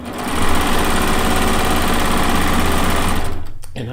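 A sewing machine stitches quilt pieces together in a loud, continuous whirring run that stops abruptly near the end.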